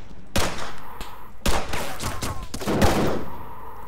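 Rapid bursts of gunfire in the military shooter Arma 3: a sharp report, then a run of closely spaced shots and crackling volleys, loud and near, with no voices.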